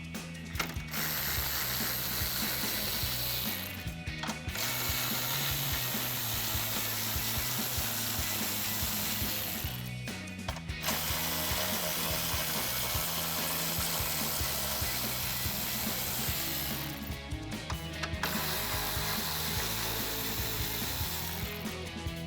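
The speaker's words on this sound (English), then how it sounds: "remove these 4 10mm bolts here at the top of the grill" Hand ratchet loosening four 10mm bolts along the top of a RAM 1500 grille, steady fast clicking pawl sounds up close, broken by three short pauses between bolts.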